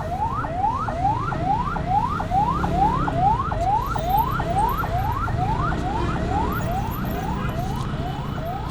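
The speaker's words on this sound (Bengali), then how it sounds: "অ্যাম্বুলেন্সটা আগে চলে গেলে বেশি ভালো হইতো, বাট অ্যাম্বুলেন্সটা যাইতে পারতেছে না" An ambulance siren wails in a steady rising-and-falling cycle, loud and continuous, while stuck in road traffic with engine rumble underneath.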